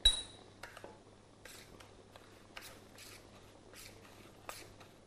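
A utensil stirs crumb-coated cauliflower in a bowl for a vegan kung pao dish, giving faint, scattered clinks and light scraping against the bowl's side, close and quiet with no voices.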